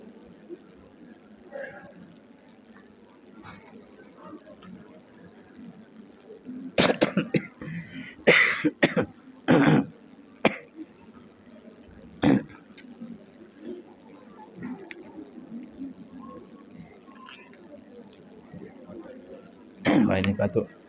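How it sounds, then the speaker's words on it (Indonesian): Several loud, sharp coughs and throat clearings break into a quiet indoor Ramadan religious study session. Faint speech murmurs in between the bursts. "Wah ini batuk."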